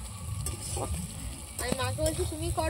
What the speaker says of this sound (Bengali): এই যে এখন পেঁয়াজ ভাজা হচ্ছে কাঠের জালে